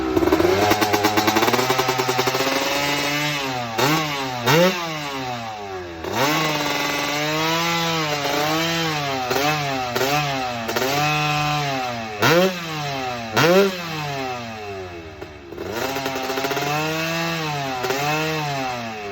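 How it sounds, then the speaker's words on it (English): Two-stroke dirt bike engine revved hard, repeatedly snapping up to high-pitched screams and dropping back in rapid rising and falling sweeps, loud and close with no speech. "After Mitch revved it to the moon with me standing there hoping the thing didn't blow up,"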